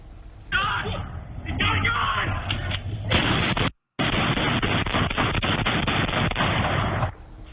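Gunshots from surveillance footage of a shooting rampage in Southlake, Texas, heard as repeated sharp reports inside a dense, muffled, noisy recording, with a news anchor talking over them and a brief dropout midway.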